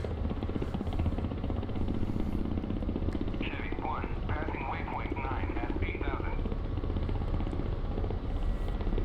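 Steady rotor and turbine drone of a Ka-50 helicopter in flight in the DCS simulator, constant and fairly loud throughout, with brief radio chatter partway through.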